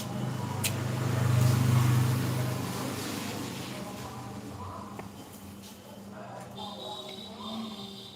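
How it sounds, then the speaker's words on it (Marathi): Road traffic rumbles past on a busy roadside. One vehicle swells up and fades away in the first seconds, then lighter engine noise continues under people talking nearby. "आता गाड्यांचा आवाज येतो भरपूर लई रोडवर असल्यामुळे"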